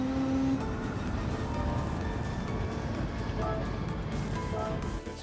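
Race car engine at full throttle in Gran Turismo 7, a steady, loud droning roar holding high revs with faint tire and wind noise, close and continuous before easing off at the end.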